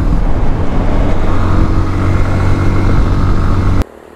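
A SYM NH Trazer 190i motorcycle engine drones loud and close at speed in a higher gear, a steady buzzing roar that cuts off abruptly near the end.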